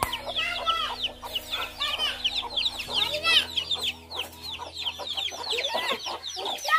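A young native-breed chick and other chickens at home cluck and chirp continuously at close range, a busy overlapping stream of calls over a low steady hum.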